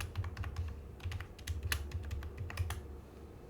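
Keys on a computer keyboard are tapped in quick irregular bursts while commands are typed into a terminal to upgrade a Kubernetes cluster, close and faint, with short pauses between runs of keystrokes.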